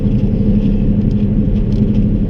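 A car accelerates on a snowy road with a steady, close engine rumble and road noise. The sound is loud and continuous, and no voices are heard.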